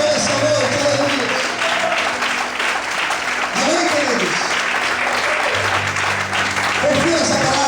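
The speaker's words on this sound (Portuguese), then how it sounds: "Será que você pode aplaudir e exaltar o Senhor nessa noite?" A church congregation at an evening service claps in sustained applause praising the Lord, while a pastor's voice rings out over the clapping and music-like tones.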